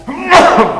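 A single sharp sneeze bursts out in a town zoning board meeting room, one brief, fairly loud blast at close range with no talk over it.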